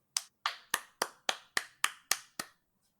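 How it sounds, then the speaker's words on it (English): One person claps nine times in an even, brisk rhythm, each sharp, close and isolated, with no voices over it. "Literal applause"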